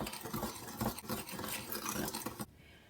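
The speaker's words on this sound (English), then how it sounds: "give it a quick whisk until it's well incorporated" Fast, steady scraping and tapping of a whisk stirring white sugar and salt in a bowl, a quiet busy patter that stops abruptly near the end.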